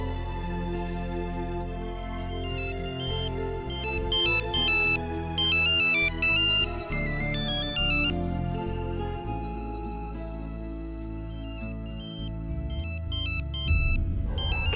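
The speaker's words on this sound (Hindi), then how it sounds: "किसका फोन आ रहा है?" A bright electronic ringtone melody plays continuously, repeating its chiming pattern over a low background hum.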